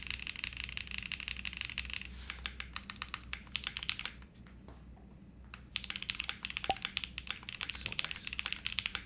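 Steady typing rattles across a wide aluminum mechanical keyboard fitted with a palm plate and lubed Geon switches, crisp clacks in quick bursts with a brief lull midway.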